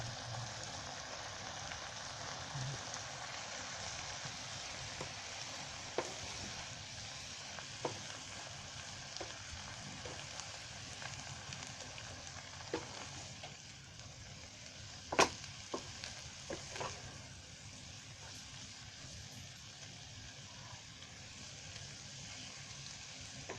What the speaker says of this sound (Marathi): आता त्याच्यामध्ये आहे ना मी तो मुळा टाकते, म्हणजे मुळा पण त्याच्याबरोबर असं चांगला शिजून येईल.